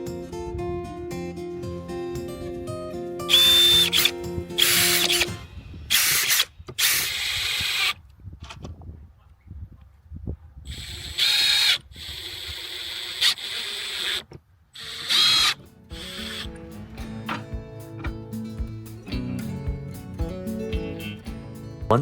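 Power drill driving 1.5-inch deck screws into wood for a small picnic table, with repeated whirring bursts of varying length, ratcheting clutch clicks and pauses between screws, close and loud.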